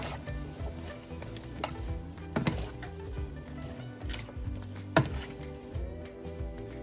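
Sliced opo squash (kalubay) and shrimp are stirred in a sizzling pan, with steady frying hiss, spatula scrapes and soft thunks of the spoon against the pan, close up.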